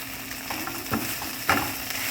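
Hash browns fry in a pan with a continuous close sizzle while a spatula scrapes and turns them in a few soft strokes, with no voices.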